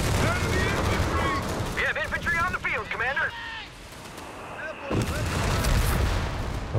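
Zeroing artillery barrage in the Company of Heroes 3 strategy game, with loud, dense bursts of shell impacts and firing at the start and again near the end, while someone talks over the action.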